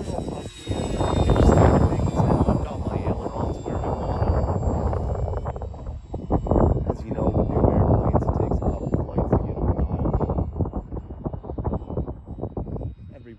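A Durafly P-40 Warhawk WWII fighter RC model plane flies with a steady, loud motor drone that swells and dips as it passes, continuous for the whole stretch.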